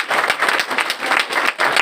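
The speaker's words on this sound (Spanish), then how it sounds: "Les pido que por favor le damos un aplauso por su participación." Audience applause for a departing panelist at a cultural journalism panel with film critics: dense, steady clapping from a crowd, fairly loud, lasting throughout with a brief dip near the end.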